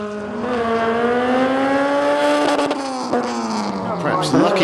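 Front-wheel-drive drag car at Santa Pod Raceway accelerating hard down the strip, a loud, rising engine howl that breaks off and stumbles at a fluffed gear change before climbing again, with a commentator talking over it.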